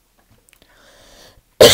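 A person gives one sudden, loud, close cough at the end, after a stretch of near silence broken only by faint rustling.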